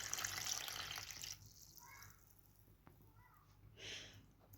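Water from a bowl splashes and trickles into a dough mixture for traditional yeasted Oujda-style kaak, a brief pour followed by quieter liquid sounds and a soft splash at the end.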